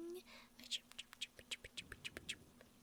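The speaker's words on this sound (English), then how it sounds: "You can hear the birds chirping," Birds chirp in quick, short repeated notes, a steady sequence of high tweets heard faintly over quiet outdoor background.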